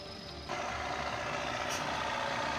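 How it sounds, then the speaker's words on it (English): Belarus 892 tractor with a twin-turbo diesel engine runs steadily at close range, its low drone growing noticeably louder and fuller about half a second in and then holding constant, with no talk. "Do you find the sound of the Belarus 892 2-turbo pleasant to listen to?"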